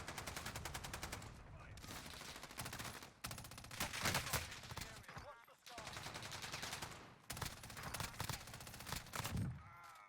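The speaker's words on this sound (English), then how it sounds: "the FFAR one is a very, very fast killing weapon in, of course, Warzone" Rapid automatic fire from an FFAR 1 rifle in Warzone, sustained bursts of gunshots separated by short pauses, loud and close across the whole stretch with faint game effects beneath.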